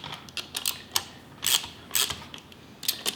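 Cylinder head cap bolts on an engine being tightened a little at a time, giving a string of short, fairly quiet metallic ratchet clicks and creaks in uneven bursts, close up, with no talking.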